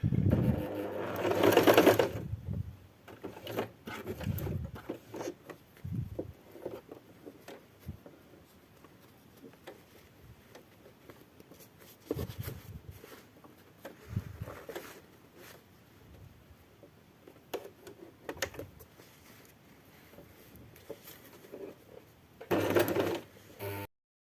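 Sewing machine stitching a seam on a fabric fruit and vegetable bag, with a loud opening burst of rapid stitching, scattered short runs and clicks through the middle, and another burst near the end.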